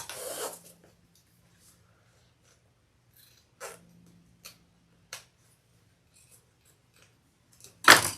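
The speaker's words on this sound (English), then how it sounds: "And that's where I'm going to cut my zipper tape" Scissors snipping zipper tape for a sewn handbag: a few sharp, separate cuts spaced seconds apart in a quiet room, the last one loudest and closest.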